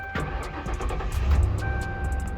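The engine of a wrecked police car cranks and catches, a brief starter whir followed by a rising idle rumble, close and moderately loud, with no voices.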